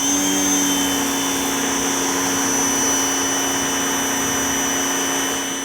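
A GreenWorks electric pressure washer with a larger motor and upgraded hose runs steadily, a loud constant motor whine and spray hiss with a sharp high tone, unbroken and close for the whole stretch with no talking.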